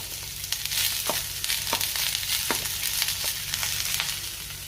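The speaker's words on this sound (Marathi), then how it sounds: "त्याच तव्यावर आता आपण कांदा भाजून घेऊया" Onions sizzle steadily on a hot griddle, a close, dense crackle punctuated by several sharp scraping clicks from stirring.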